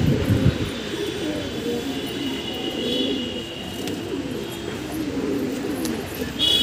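Pigeons on a building rooftop coo in low, continuous murmurs against a steady rumbling background, with a faint high chirp now and then.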